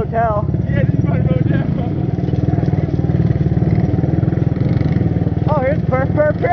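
Honda 200 motorcycles ride woodland trails at night with a close, steady engine chug and rapid rhythmic pulsing that never lets up, while people talk briefly over it at the start and end.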